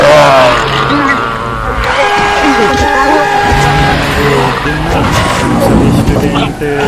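A car driving fast in a Hindi audio drama gives off a long, continuous tire squeal and skid that holds loud through the whole stretch over engine noise, with music layered beneath.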